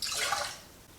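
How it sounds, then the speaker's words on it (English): Water pouring onto a cup of washed basmati rice, a short bright splashing rush that is loudest at the start and fades quickly, heard alone. "So here we have 1 cup of washed rice, to which we are going to add 2 cups of water."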